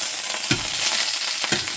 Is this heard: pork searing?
yes